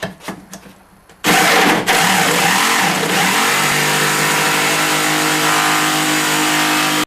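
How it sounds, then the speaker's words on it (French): A jigsaw cuts through an old wardrobe door, its motor kicking in after a quiet second and then buzzing loudly and steadily at close range until the end. "Ces trous vont permettre le passage de la lame de la scie sauteuse."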